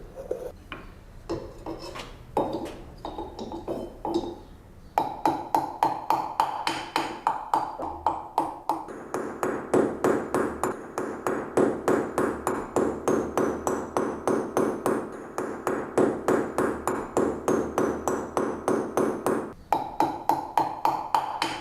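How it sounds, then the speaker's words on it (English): A highly polished planishing hammer strikes a tombac copper sheet laid on a flat anvil, starting with scattered blows and then settling into a fast, steady train of ringing metallic taps, close and loud. "Using a highly polished planishing hammer, he works the base evenly to take down the surface"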